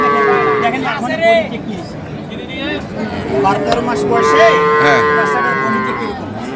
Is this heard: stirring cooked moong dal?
no